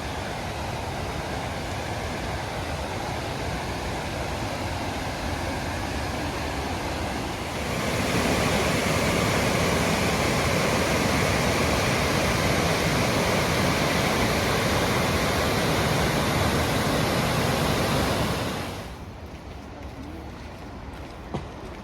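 A waterfall in the Yorkshire Dales pours with a steady, broad rushing roar. It swells louder for a long stretch in the middle, then drops back to a softer wash, with no voices.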